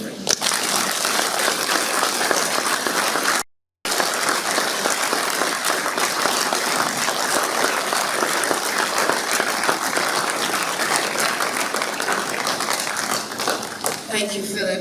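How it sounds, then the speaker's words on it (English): Sustained applause from a seated audience at an opening ceremony in Barbados, dense steady clapping filling the room at full volume, briefly cut out for a moment before carrying on and tailing off slightly at the end. "Another round of applause"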